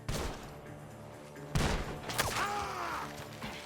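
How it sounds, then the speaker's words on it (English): Gunfire rings out from a barn in Red Dead Redemption 2, with sharp shots at the start and again at about a second and a half, over game ambience and brief voice sounds. "The gunshots are coming from that barn!"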